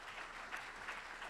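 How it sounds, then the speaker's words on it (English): An audience applauds at a public programs event, with soft, steady clapping heard at a distance and faint throughout. "So please help me give a round of applause to Jenny Bigoni"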